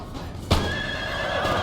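A horse gives a loud, close neigh in a battle in the video game Napoleon: Total War, with a rising whinny that trails off over faint hoof clatter and background battle noise.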